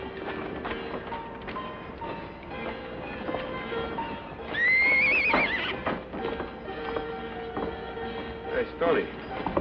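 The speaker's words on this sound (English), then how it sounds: "Hey, Stoney, take a look at that horse" A horse whinnies loudly in the middle amid scattered clip-clopping hooves and rumbling background noise, with a voice speaking nearby.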